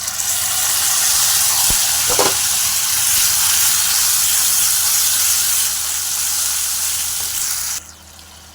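Mustard seeds hit hot oil in a frying pan, giving a loud, steady sizzle with a brief crackle burst early on, then continuous hissing that cuts off sharply near the end.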